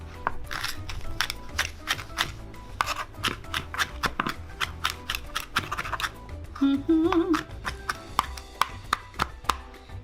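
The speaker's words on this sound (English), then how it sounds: "I'm gonna cut up the jalapenos too." A knife chops jalapenos on a cutting board in a home kitchen, a rapid series of close, crisp cutting strikes running throughout with brief pauses and a faint clatter partway through.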